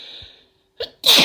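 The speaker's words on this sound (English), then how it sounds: "I can't tell if I'm gonna sneeze again or not." A woman sneezes during a sneezing fit: a quick sharp intake followed by one loud, close explosive sneeze, with a soft breathy sound just before.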